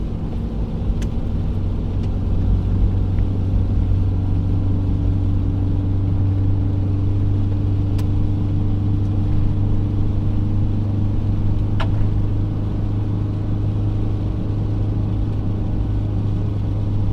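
Engine of a manual Toyota 4Runner held in second gear in 4-high around 3,700–4,400 RPM while climbing a snowy mountain pass, a steady loud droning hum with a constant low tone throughout and no talking.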